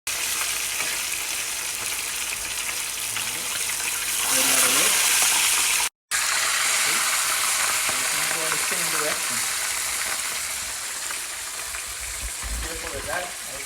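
Whole fish fry in hot oil for escovitch fish, a dense, steady crackling sizzle close by, with a short gap partway and faint talk in the background.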